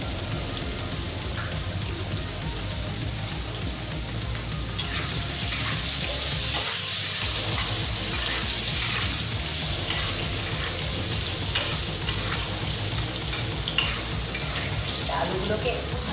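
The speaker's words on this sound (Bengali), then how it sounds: "আলুগুলোকে একটু ভালো করে ভেজে নিই" Potato pieces fry with a pinch of turmeric in a pan, giving a steady, close sizzle with scraping stirs and occasional clinks throughout, no voices.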